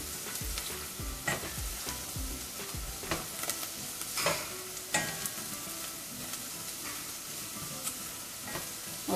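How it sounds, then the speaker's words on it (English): Garam masala, red pepper and salt fry in a pan for palak paneer, a continuous sizzle broken by repeated scraping stirs and occasional spoon knocks, fairly close. "I'm going to fry for a few minutes."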